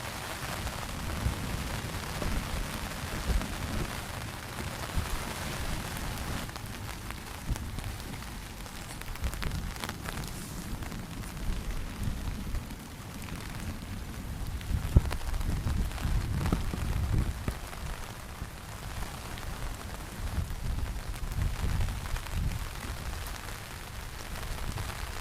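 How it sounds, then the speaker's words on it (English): Steady rain drums on a tarp over a hammock during a storm, with low rumbling swells that suggest thunder, continuous and fairly close, no talking. "I'll let you enjoy some rain and thunder and lightning"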